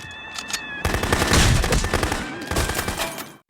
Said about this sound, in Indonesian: dengan sigap John berhasil melesatkan peluru ke arah Perm